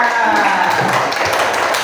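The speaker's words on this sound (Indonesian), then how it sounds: "Tepuk tangan untuk Arsila" Children in a primary classroom clapping together for a classmate, a dense steady patter of many small hands at close range lasting a couple of seconds.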